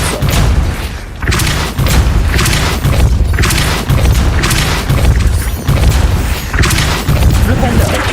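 Repeated spell-casting blasts from the Depulso force spell in the Hogwarts Legacy video game, five or six loud booming thumps in a steady rhythm roughly every second and a half, each with a rushing whoosh.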